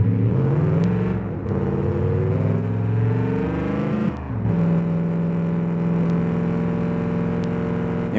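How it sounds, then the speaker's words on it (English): In the BeamNG video game, a 6x6 truck's engine drones loudly and keeps rising in pitch as the turbo spools. Brief dips mark shifts, then the tone climbs again under throttle, with no talking. "Oh, the turbo just spools up and we have instant wheel spin."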